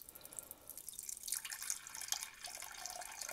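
Water is poured into a tarantula's water dish inside its enclosure, a faint, brief trickle with light splashing and dripping that starts after a quiet moment and continues at low volume.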